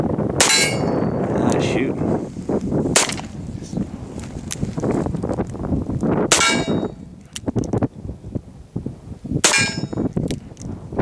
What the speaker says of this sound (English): shooting a snubby revolver in 38 special. That's the Taurus ultralight revolver.